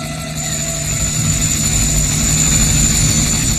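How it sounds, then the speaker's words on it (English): Helicopter carrying a passenger high into the Khasi Hills in India, heard from inside or nearby as a loud, steady rotor and engine drone that holds throughout without pause. "they've laid on this helicopter to fly me the last 60 miles high up into the Khasi"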